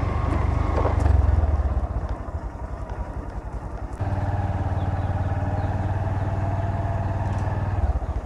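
A motorcycle rides along a rural road near Bisnakandi in Sylhet during the rainy season. The steady, close engine drone holds throughout, with a brief louder swell near the start.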